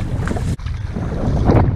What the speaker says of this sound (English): That wind has just picked up from nowhere